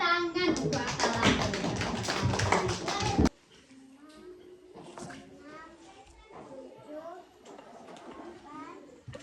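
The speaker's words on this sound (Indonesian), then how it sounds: "Tepuk tangan untuk Atala." Young children in a classroom burst into brisk, lively clapping for a few seconds, loud and close, then the room drops quiet as a teacher and children talk.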